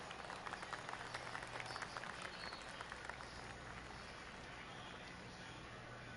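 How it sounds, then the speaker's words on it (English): Polite golf clap from a gallery of spectators in the PGA Tour 23 video game, a soft spatter of scattered hand claps that thins out and fades to a quiet ambient hum. "golf clap"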